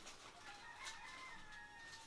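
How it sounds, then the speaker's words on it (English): Distant roosters crowing, faint tonal calls drawn out over a steady background hiss, with no one talking. "And the roosters are at it."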